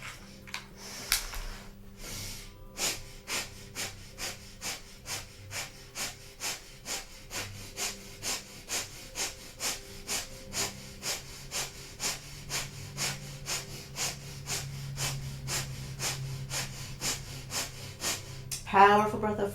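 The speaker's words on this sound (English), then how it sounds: "we'll begin 1 minute of breath of fire." Rapid, forceful rhythmic yoga breathing in breath of fire style, about two sharp nasal exhales per second, steady and close, with faint background music.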